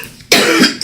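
A single sharp cough from a man with allergies, close and loud, followed by a short catch of breath.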